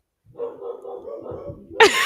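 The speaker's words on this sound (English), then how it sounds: "I don't know if you can hear the dogs going absolutely crazy in the background" Dogs bark and yip excitedly in the background, a run of muffled, rapid barks followed by a louder, sharper burst near the end.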